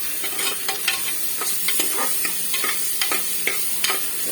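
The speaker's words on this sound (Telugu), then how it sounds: "ఇలా అల్లం వెల్లుల్లి పేస్ట్ అయితే వేసుకుంటున్నా అండి" Ginger garlic paste frying with sautéed onion in a pan, a continuous sizzle broken by repeated sharp scrapes and taps of a stirring spoon, close and without speech.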